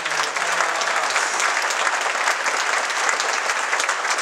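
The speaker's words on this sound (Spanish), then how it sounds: "Ahora quiero pedir que recibamos con un aplauso a Ana Eunice García Zamora" Steady applause from an audience at a Holocaust remembrance event, welcoming the director of a Latin American Christian peace institution; dense, even clapping fills the room at a constant level without a break.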